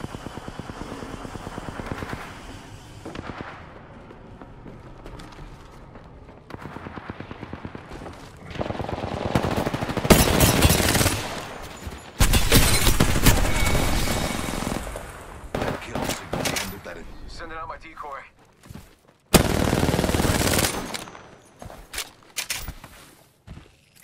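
Bursts of automatic and single gunfire in the battle royale shooter Apex Legends during a bunker fight, loud and repeated across the clip with brief lulls, plus game callouts and footsteps between volleys.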